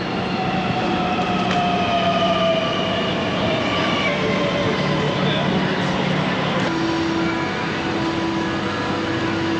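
A passenger train on the Øresund line pulls into a station, its steady rumble and wheel noise filling the scene with a rising tone near the end as it slows to a stop.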